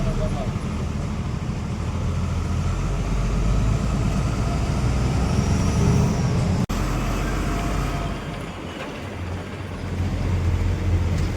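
Cars and buses jammed on a busy road, a steady loud rumble of engines and traffic noise throughout, dipping briefly before building again.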